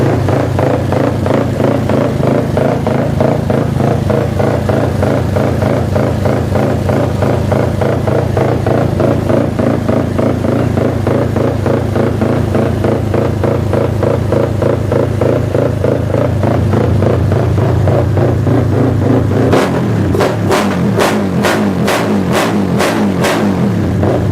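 A tuned Honda Wave 125i motorcycle with a big-bore 72 mm, 4-valve engine running E85 revs hard and loud up close, a continuous buzzing roar that ends in a few sharp blips.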